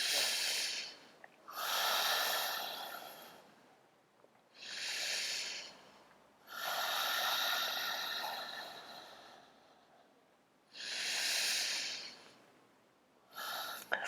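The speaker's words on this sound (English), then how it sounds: "hold that position for 3 deep breaths" Deep, slow breaths held in a yoga chair pose: long airy inhales and exhales in a steady cycle of about five breaths, close and breathy with quiet gaps between them.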